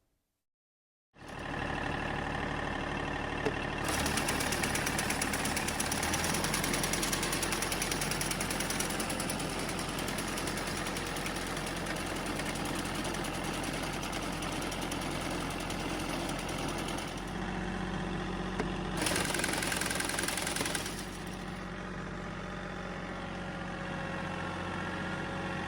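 A Ford 501 sickle mower with replaced guards and new knife sections runs steadily in a field, a loud continuous mechanical engine drone with a rapid chattering cutter clatter, swelling briefly toward the end, no talking.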